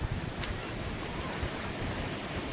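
Continuous broadband rush of water at Kundi waterfall, a steady even roar with no breaks, fairly near and without speech.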